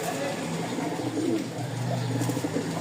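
Pigeons coo nearby in repeated low, throaty phrases over a steady background hum, with no speech.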